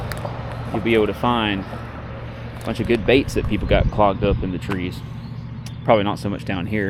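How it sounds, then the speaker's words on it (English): Road traffic near a lakeshore makes a steady low rumble beneath someone talking close to the microphone throughout. "sorry for the road noise"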